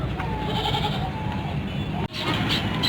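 A Hyderabadi Totapari goat with two kids bleats at a livestock market, a wavering call carried over a busy crowd, with people talking around it and a brief cut near the end.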